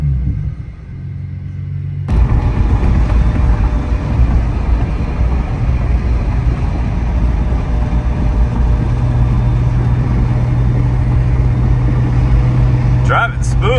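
A twin turbo Nissan 350Z with an O2 sensor check-engine light idles and runs, starting quiet and then jumping to a loud, steady low engine drone that holds for about twelve seconds.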